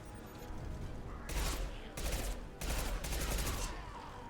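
Bursts of rapid automatic gunfire in Mass Effect 2, three loud close volleys with short gaps between them over a low background rumble.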